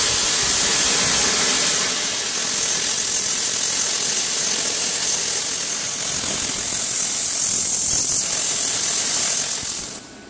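Captain Cut 50 plasma cutter set to 50 amps and 2T, cutting steel for a tractor bucket tooth bar, a loud, steady hissing roar that holds for about ten seconds before tapering off.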